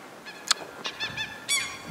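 Geese near chicken coops on a rural homestead give several short, nasal honks in an irregular run, fairly close and clear, with no voices.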